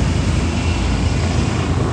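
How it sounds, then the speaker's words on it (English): Low-flying helicopter over a downtown street, a loud steady engine and rotor roar with wind buffeting the microphone, continuous and close throughout. "I'm guessing there's a helicopter above us."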